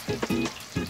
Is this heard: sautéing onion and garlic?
yes